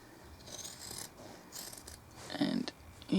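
Scissors snip into fabric to open a buttonhole on a peg bag, a few soft close cuts and rustles, ending in two louder crisp snips near the end.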